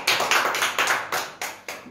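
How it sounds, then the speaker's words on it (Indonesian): A church congregation claps hands together in praise, a brisk run of loud, close claps in a steady rhythm with no talking over them. "Tepuk tangan bagi Yesus."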